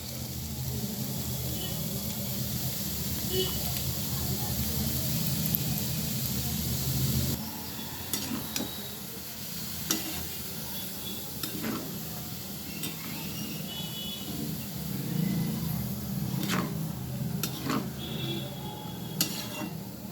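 Chopped ash gourd hits a hot pan with a loud hiss and sizzle, followed by scattered clinks of a utensil against the pan as the steaming contents settle.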